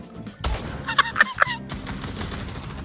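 Gunfire in a VR shooting game, a quick burst of three or four loud, sharp shots fired in close succession, followed by a steady background hum.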